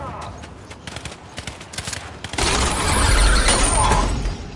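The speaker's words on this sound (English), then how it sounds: "Two horses." Horse hooves pounding in the Fortnite video game, a quick clattering rhythm that swells loud in the second half amid game noise, with players chattering over it.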